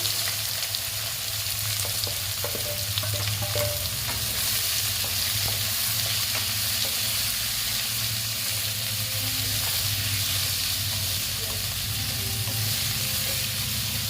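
Sliced onions frying in hot oil for a spicy egg curry, after a pinch of sugar has gone into the pan: a steady, dense sizzle fills the whole stretch, with occasional crackles and light stirring, and no one speaking.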